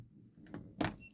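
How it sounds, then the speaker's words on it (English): A bedroom door being opened at home: a soft latch click followed by a louder thunk of the door swinging, close and brief, with low room hum underneath. "So I open up my door"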